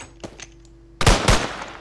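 Gunfire in the Minecraft video game: a couple of faint pops come first, then two loud, close, sharp bursts of shots in quick succession, with no talking.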